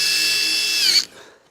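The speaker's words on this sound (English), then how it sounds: "So I'm going to just get my screws started first." A power drill drives screws into a garden room door frame: a loud, close, steady high whine for about a second, then the motor cuts off and winds down.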